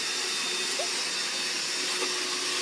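A household vacuum cleaner runs steadily up close, a constant airy whooshing hiss with a faint steady motor whine and no talk over it.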